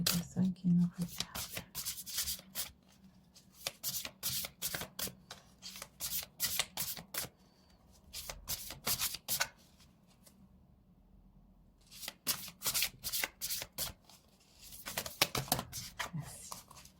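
Tarot cards being shuffled by hand in repeated bursts of crisp riffling and flicking, with pauses between rounds, while a voice speaks quietly in the background.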